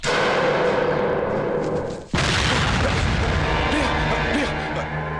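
A mobile phone ringtone that mimics a bomb blast roars out as a heavy, sustained rumble, then a sudden deep boom hits midway and the loud roaring continues after it.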